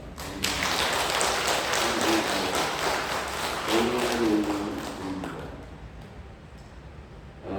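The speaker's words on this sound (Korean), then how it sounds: "하나님께 감사와 찬송과 영광의 박수를 올려드리겠습니다" A church congregation at a Sunday worship service breaks into sustained applause, a dense, fairly loud wash of clapping that gradually thins and fades toward the end.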